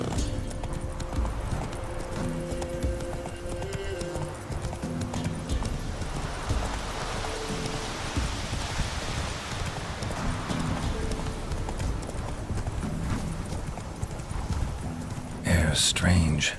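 Horse hooves clip-clop steadily across the ground in The Witcher 3, a continuous rhythmic trot that stays fairly close and loud for the whole stretch, with a brief whinny and voices talking over it.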